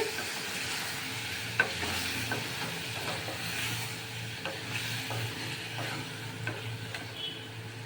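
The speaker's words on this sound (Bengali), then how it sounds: "এই সয়াবিনটা দিয়ে দেব দিয়ে একটু ভাজা ভাজা করব" Soybean chunks frying in a pan for chilli soybean, a steady sizzle with stirring scrapes and occasional clicks of a utensil, close and continuous without talk.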